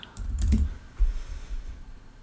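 A short burst of typing on a computer keyboard, a handful of close, crisp key clicks in quick succession, entering a single search word with no talking.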